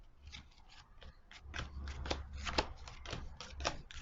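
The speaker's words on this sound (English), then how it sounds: "And while I shuffle, won't you pop down and give this video a like" Tarot cards being shuffled in a steady run of crisp riffling and flicking bursts, close and fairly quiet, with no talking.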